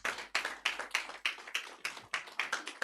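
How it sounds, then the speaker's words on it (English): Steady rhythmic clapping at a graduation ceremony, about nine evenly spaced claps at a close, quiet level, sounding like one or a few people applauding alone. "Please, a round of applause for her."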